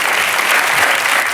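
A studio audience on a French television talk show bursts into steady, loud applause, a dense wash of clapping that fills the whole moment with no pauses.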